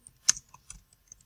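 A few scattered keystrokes on a computer keyboard while writing a message, light close clicks with one firmer tap amid quiet.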